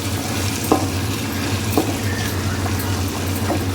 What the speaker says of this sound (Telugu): మసాలా అయితే మంచిగా ఫ్రై అయింది